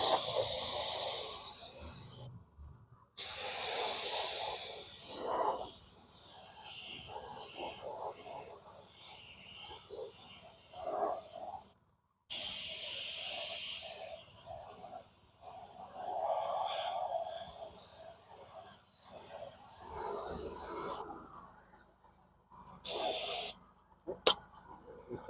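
A spray gun lays clear coat onto a Jaguar wheel rim in a series of hissing bursts, each a few seconds long, with brief silent gaps and some quiet sounds between passes.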